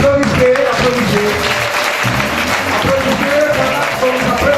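A church congregation claps loudly and continuously after a Sunday school children's sketch, a thick wash of hands with a voice and sustained tones mixed underneath.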